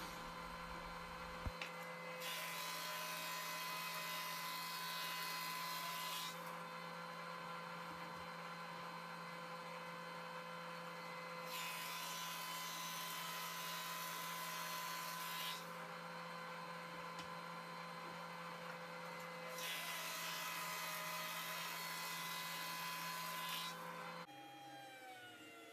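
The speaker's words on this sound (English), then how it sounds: "Now we take the slabs and plane them down to about 1 9/16." A planer planes maple slabs for a butcher block with a steady machine drone and tonal hum, and louder cutting roars come in repeated passes of several seconds each; there is no talking.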